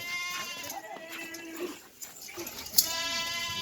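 Goats on a goat farm bleat repeatedly, several overlapping wavering cries close by, with a brief sharp knock near the end and no talking.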